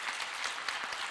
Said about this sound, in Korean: 우리 이용돈 목사님에게 우리 박수 한번 좀 하겠습니다